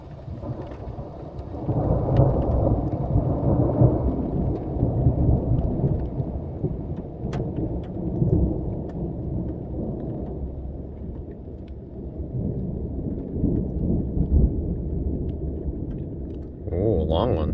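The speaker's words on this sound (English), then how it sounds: "Got some thunder and it's slowing down." Thunderstorm over Green River Lakes, Wyoming, heard from a kayak: low rolling thunder rumbles on and off over a steady wash of rain, with a sharper burst near the end.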